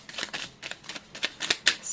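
Tarot cards being shuffled by hand in a series of quick, crisp riffling bursts with short pauses between, close and moderately loud, no talking.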